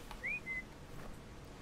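A short two-note whistle from a character in the video game Atlas, a quick rising note followed by a steady held one, faint over a low background hum.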